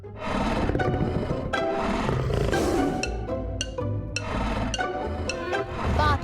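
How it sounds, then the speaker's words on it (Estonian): A tiger roars loudly and repeatedly amid dense animal noise, the roars coming close and alone with no talk over them. "Vaata, tiiger."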